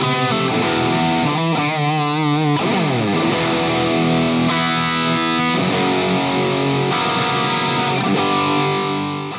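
An electric guitar plays through a Marshall JCM 800-style overdrive pedal set to heavy distortion, loud and sustained, with chords and bent notes ringing continuously for the whole stretch.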